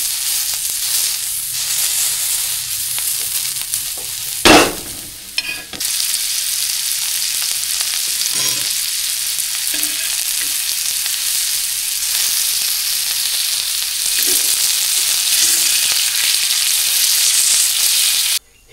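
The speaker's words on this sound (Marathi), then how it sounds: "हे पूर्ण असं खरपूस थोडंसं लालसर होईपर्यंत भाजायचं असतं" A Konkan specialty fries in a pan until crisp and reddish, giving a loud, steady sizzle that runs throughout, with a couple of brief clattering stirs near the start.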